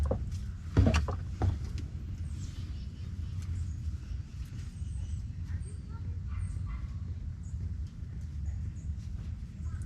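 Fluid draining from the transmission pan of a 2015 Subaru Impreza Sport with a CVT TR580, gurgling and burping in irregular bursts close by, loudest near the start and then tapering into a low sloshing trickle.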